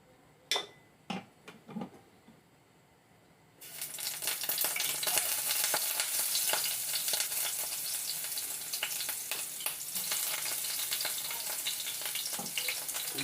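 Chopped garlic goes into a hot pan and breaks into a loud, steady sizzle after a few quiet clinks, the frying staying dense and bright to the end with no talking.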